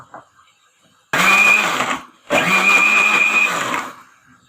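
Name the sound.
blender grinding yogurt and spice paste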